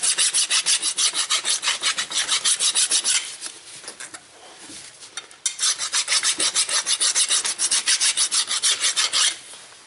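A metal hand file is rasped over a rusty ABS tone ring on a Ford Escape in loud, rhythmic back-and-forth strokes. The strokes come in two quick runs with a brief pause between them.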